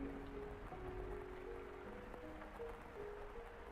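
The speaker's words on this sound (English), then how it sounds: "Why is there rain and thunder sound effects playing?" Steady game-style rain sound effect from The House in Fata Morgana, a faint continuous wash of falling rain with soft hums underneath and no clear thunder crack.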